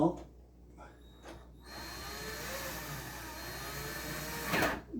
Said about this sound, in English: I just put an extension on my drill